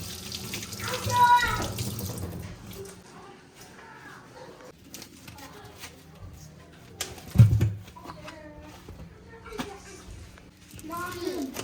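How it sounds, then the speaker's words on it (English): A kitchen tap runs while hands are washed, a splashing water stream rising and falling under a man's and children's voices, with a louder gush about halfway through. "And I'm doing washing my hands."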